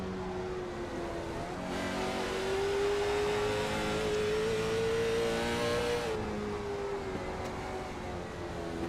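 Late model stock cars racing on the short oval at Hickory Motor Speedway, a loud sustained engine roar that swells and holds steady through the middle of the lap before easing slightly, with no talking.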